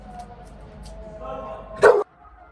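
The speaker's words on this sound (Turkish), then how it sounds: "Direkt havlamaya geliyor yani." A pit bull gives one short, loud bark close by, preceded by quiet indoor background noise.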